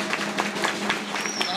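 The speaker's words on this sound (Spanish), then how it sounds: "Aplauso para Graciela." Applause from a crowd at a community association musical ensemble event, dense clapping throughout with voices and cheering mixed in.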